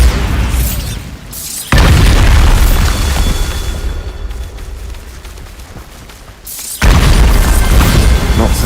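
A loud Bombarda spell blast from Hogwarts Legacy, a video game, hits with a sudden heavy boom, a rumbling tail that fades, then a second boom near the end.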